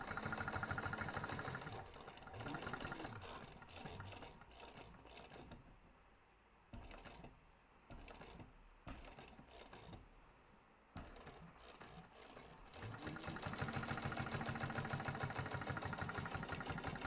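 A sewing machine stitches a seam on a crossbody bag, a rapid mechanical whirring hum that runs steadily, breaks into several short stop-and-start bursts mid-way, then resumes at full speed.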